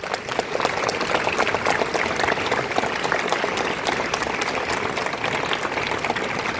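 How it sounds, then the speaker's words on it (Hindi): Loud, steady applause from a large crowd of students and staff at a school assembly, dense clapping sustained without a break from start to finish. "आइए और एक बार जोरदार तालियों से उनका अभिनंदन करें"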